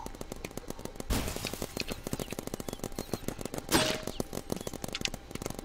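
Paintball guns firing in a Roblox paintball match, a fast steady rattle of shots at moderate distance, with a couple of louder whooshing bursts over the continuous firing.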